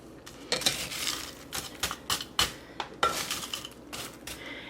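Homemade nut-free berry granola stirred in a bowl, chunks broken up with a utensil, giving a quick run of close clinks, scrapes and crunchy rattles in uneven bursts.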